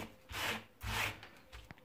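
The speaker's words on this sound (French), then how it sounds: "on a juste à faire plusieurs passes en faisant passer la scie à chaque fois" A hand saw rasps through reclaimed wood in two slow strokes, cutting grooves in furniture, followed by a softer third, close and fairly quiet.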